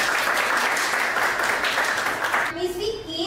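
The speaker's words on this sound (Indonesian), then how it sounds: "tepuk tangan dulu untuk kita semua." A classroom of students claps together after a lesson on globalisation, a steady, fairly loud round of applause that stops abruptly, followed by a teacher's voice.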